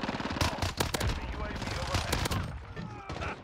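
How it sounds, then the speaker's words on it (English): Rapid bursts of gunfire from the Vector submachine gun in the video game Modern Warfare, loud and repeated in tight clusters with overlapping shot cracks and game noise, with talk over the top. "Two bursts to kill some of those guys right there."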